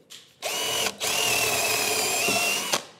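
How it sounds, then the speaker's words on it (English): A power drill whirs steadily close by, drilling holes in wood, with a brief pause before it spins up again and runs continuously, winding down at the end. "One way I liked was to drill holes along this line here."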